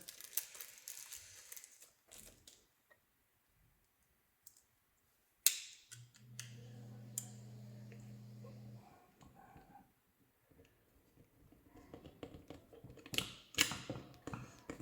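A metal adjustment knob is screwed onto a Hasbro Neutrona Wand, with close, quiet clicks, small metallic ticks and light handling of parts, plus a brief low hum in the middle.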